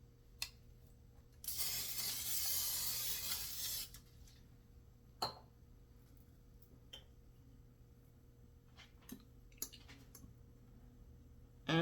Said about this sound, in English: And I'm going to spray the loaf pan before.